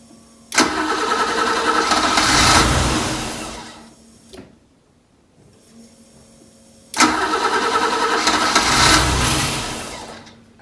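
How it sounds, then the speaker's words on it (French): BMW E30 320i engine cranking and catching, revving loud for a few seconds before cutting out, then a second start a few seconds later that roars up again before fading, with a faint idle hum in the gap. "Elle démarre, mais elle cale directement"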